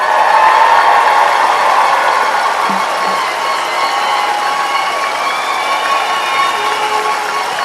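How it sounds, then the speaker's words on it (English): A large audience at a 2018 general session claps and cheers together, a loud, sustained wash of applause with shouts rising on top, steady and dense throughout. "how about a nice, big, thunderous applause or whatever for yourselves?"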